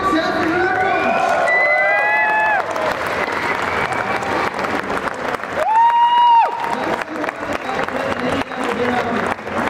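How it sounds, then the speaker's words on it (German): Applause and cheering from a crowd at an esports gaming tournament award ceremony, Caggtus Leipzig 2024, honouring placed teams; sustained clapping with whoops, and a voice calls out over the crowd midway. "Dort der dritte Platz, nochmal Applaus für Illuminatu"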